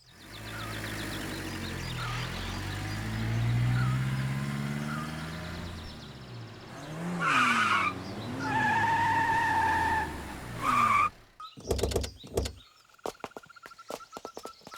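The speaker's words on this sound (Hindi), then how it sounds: "ऐसे कोई गाड़ी चलाता है क्या?" A car driven recklessly with tires skidding in a rural setting, a loud sustained screech and engine roar up front, broken by sharp transient bangs and knocks toward the end.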